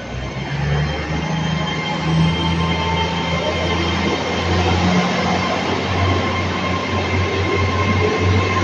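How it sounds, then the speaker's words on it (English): A train rumbles steadily as it pulls away from a station at Taunton or St Austell, wheels clattering and faintly squealing on the rails, loud and sustained throughout. "One train leaves, one arrives."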